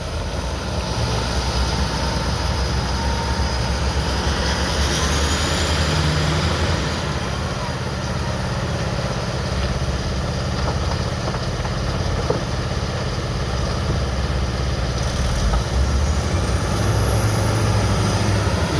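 Heavy diesel machinery at a West Coast gold mine, a Komatsu WA600 loader with excavators, rumbling in a steady loud drone with rising and falling engine tones, someone talking over it.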